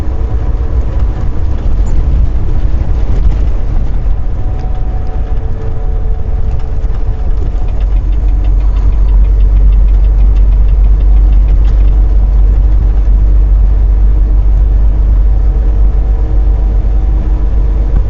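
Car engine and road noise from inside a vehicle driving on the I-10 highway: a loud, constant low rumble with a steady drone, no talking.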